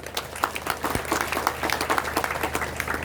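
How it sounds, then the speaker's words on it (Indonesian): A smaller group claps for students at an Islamic boarding school ceremony, the individual claps audible in an uneven patter, moderately loud and continuous for a few seconds. "Tepuk tangan untuk para santri."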